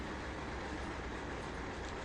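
Freight train rumbling along the railroad near a harbor, a steady broadband roar with no distinct clacks, continuous and fairly faint throughout.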